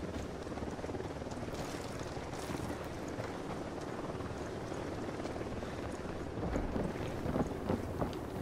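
An Apache helicopter in the video game Ghost Recon Wildlands gives a steady, dense rotor and engine roar that fills the whole stretch and swells slightly near the end.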